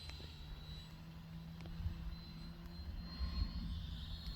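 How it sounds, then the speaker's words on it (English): A 64 mm EDF F-22 RC jet flies in the rain, its ducted fan giving a faint, distant whine over a low rumble of background noise. "Out here flying in the rain. 64 millimeter F-22."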